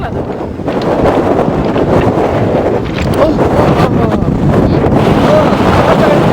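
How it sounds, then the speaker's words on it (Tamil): Strong wind buffets the microphone at a beach, a continuous loud roar and rumble with a faint wash of surf beneath it, steady for several seconds without a break. "காத்து காத்து"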